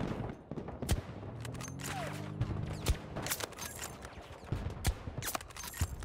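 Suppressed weapon fire in the shooter Battlefield 2042: sharp, muffled shots cracking in rapid irregular bursts against a busy battlefield background, close and fairly loud.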